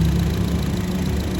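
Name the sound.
Honda HR-V SE Matic 2020 engine running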